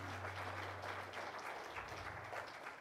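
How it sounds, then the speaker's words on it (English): Audience applause for keynote presenter Katrina Salazar, a steady, dense wash of clapping held at an even level for about three seconds with a low hum underneath. "How about another round of applause for Katrina Salazar?"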